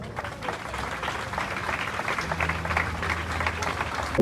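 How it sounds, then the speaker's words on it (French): An audience at a Kinshasa political gathering applauds steadily, a dense wash of clapping heard from a little distance with faint crowd murmur underneath. "que je vous prie d'applaudir très très fort"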